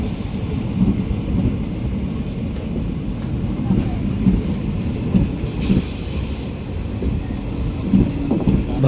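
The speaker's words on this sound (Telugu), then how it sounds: "ఈ train number 57411 Guntakal Bodhan passenger." Guntakal–Bodhan passenger train 57411 passing close by at a station outer, a loud continuous roar and rumble with repeated wheel thuds and a brief hiss partway through.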